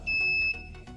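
A custom security alarm on a Suzuki Satria FU motorcycle sounds a shrill, steady electronic tone, loud and piercing high-pitched wail with a brief drop near the middle.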